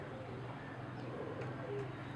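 Crested pigeons kept by a Lahore pigeon fancier coo softly in low, rolling calls against a steady background murmur, faint and fairly near.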